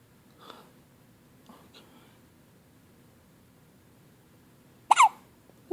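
A few small hiccups spread across quiet moments, soft and close, with a sharper, louder hiccup-like burst near the end and no talking.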